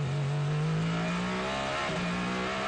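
A hypercar race car at the Circuit of the Americas during a WEC endurance race, its engine note droning steadily and loud with a rising pitch and a shift partway through, with no voices.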